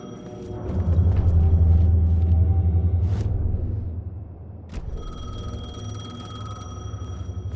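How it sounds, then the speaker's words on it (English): Payphone ringing in the video game Alan Wake 2, a bright electronic bell tone heard over a deep rumbling ambience, with the ring continuing steadily through the latter half. "The payphone was ringing."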